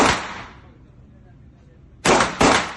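A pistol fires during basic handgun shooting training: one loud sharp shot decays at the start, then after a quiet pause two more sharp cracks follow close together near the end.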